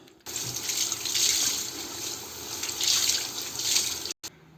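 A cleaning cloth is rinsed and wrung under a running kitchen tap, a steady close splashing rush of water that swells in waves for about four seconds before cutting off abruptly.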